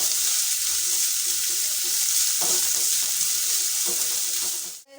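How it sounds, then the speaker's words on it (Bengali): Chopped ginger and onion sizzle steadily in hot oil, a continuous close frying hiss with faint stirring clinks, ending abruptly. "তেলে দিয়ে দিচ্ছি আদা কুচি আর দিয়ে দিচ্ছি পেঁয়াজ কুচিটা একটু ভেজে নেবো"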